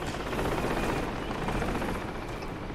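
Military helicopters flying in a jungle battle within a video game, a steady broadband rotor roar filling the whole stretch at moderate loudness with faint gunfire mixed in.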